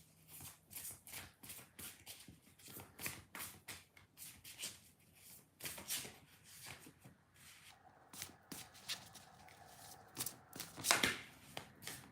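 Oracle cards being shuffled by hand in quick riffling bursts, close and fairly quiet, with occasional taps and soft handling noises between runs.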